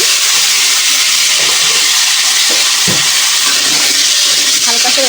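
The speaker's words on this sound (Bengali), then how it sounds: "এই তেলে সজনের ডাঁটা দিয়ে আর আলু দিয়ে একটু ভেজে নেব হালকা করে" Moringa drumsticks and potato pieces frying lightly in oil give a loud, steady, dense sizzle that runs unbroken throughout, with a few faint low knocks underneath.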